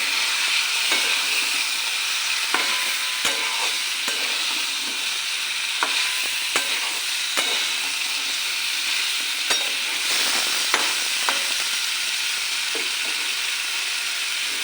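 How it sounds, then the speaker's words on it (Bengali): Egg and cauliflower fry in hot oil in a pan, giving a continuous loud sizzle broken by frequent scraping clicks of a spatula stirring them, with no talking. "এখন ডিম আর কপি এগুলো দিয়ে দেবো ভালো করে মিশে নিই"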